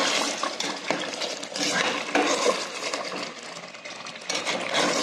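Mutton kosha being stirred in a pot alongside chicken biryani, a dense, steady clatter of a spoon scraping and knocking against the metal, close and continuous with small swells throughout and no talking.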